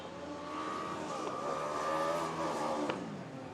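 A Formula Student race car engine revs steadily at a distance at the Formula Student UK 2019 event, rising and holding a high, buzzy whine for several seconds, with a sharp shift-like blip near the end.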